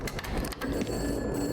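Telephone ringing in The Night Is Long video game, a bright repeating electronic ring with steady tones, heard alone at moderate loudness.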